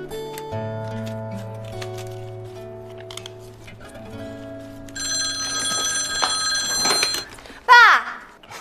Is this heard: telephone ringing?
yes